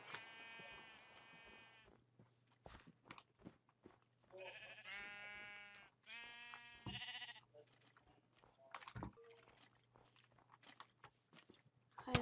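Minecraft sheep bleat in a snowy game world, several drawn-out nasal bleats in two clusters, fairly close, with chewing-like crunches and clicks around them over a steady low hum.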